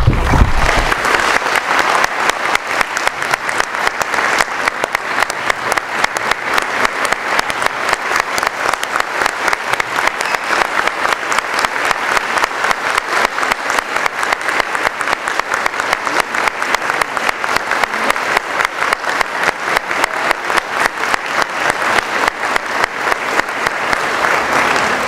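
Sustained, dense applause from an audience fills about twenty-five seconds at the East Longmeadow Public Schools convocation, honoring Educators Hall of Fame inductees, steady and loud from start to finish.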